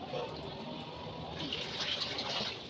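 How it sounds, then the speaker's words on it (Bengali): Meat being washed under running water in a home kitchen, a soft steady splash and trickle heard from nearby, with faint voices and household noise behind it. "এদিকে হচ্ছে মাংস ধোয়া"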